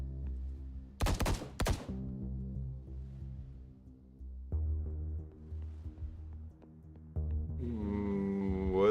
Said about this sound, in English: Did I just hear gunshots? Yes, and they were close.